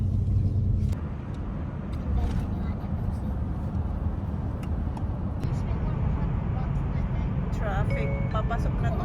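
A car driving in traffic on the road into Melbourne as rain begins, giving a steady low road rumble and engine hum with occasional faint clinks inside the cabin.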